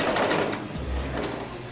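A sewing machine stitches upward along a curved zipper fly toward the seam, giving a brief, steady, close mechanical whirr with a low motor hum throughout.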